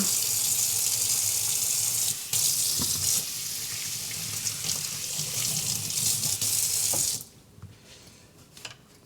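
Tap water runs steadily into a kitchen sink as a teaspoon is rinsed, a loud continuous splashing rush that cuts off abruptly near the end, leaving a quiet room.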